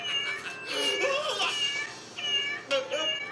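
A cat meows repeatedly in a Cowboy Bebop anime episode, several drawn-out, wavering cries in close succession, fairly clear, with a final short meow after a brief pause.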